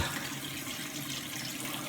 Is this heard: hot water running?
yes